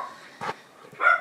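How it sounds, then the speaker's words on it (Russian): A small dog barks indoors: a soft short yip, then two sharper barks, the last one louder and higher, with quiet room sound between them. "Гавкалка Милка"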